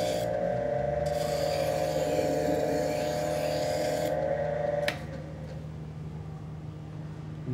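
Knife sharpening machine drawing a blade through the valley of its stones: a steady mechanical whir with a bright grinding rasp for about five seconds, then the grinding stops and the motor keeps running more quietly alone.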